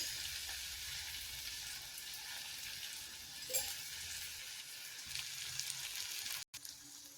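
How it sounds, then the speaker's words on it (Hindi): Tomatoes simmering with sweet corn kernels in a pan for a spicy corn chivda, a faint, even sizzle throughout with a brief clink near the middle and a sudden cut just before the end. "मिला लेंगे टमाटो और 2 मिनट पका लेंगे ताकि टमाटो एकदम एक रस हो जाए"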